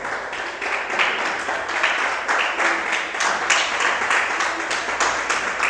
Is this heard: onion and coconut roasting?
no